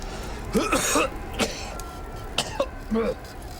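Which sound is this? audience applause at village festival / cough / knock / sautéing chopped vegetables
cough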